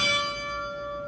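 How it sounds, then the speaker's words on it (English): A single loud note struck on the Duke Chapel carillon rings out with a bright metallic attack and a sustained, steady bell hum that decays slowly, heard alone without any voices. "I have a very loud bell sound"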